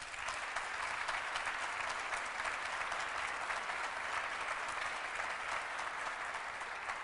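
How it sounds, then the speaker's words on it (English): Steady, dense applause from an audience at a public event announcing downtown Rochester revitalization projects continues evenly throughout, loud and sustained with no pauses. "let's give the governor a round of applause one more time"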